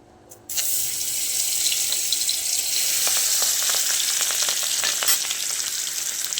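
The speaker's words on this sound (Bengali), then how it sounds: "এবার আমি গ্যাসের আঁচ কমিয়ে দিয়ে মাছগুলো একটা একটা করে এর মধ্যে ছেড়ে দেব" Fish frying in hot oil in a wok on a gas flame turned low, a steady close sizzle and hiss throughout with sharp crackles and spits rising once the pieces go in, no voices.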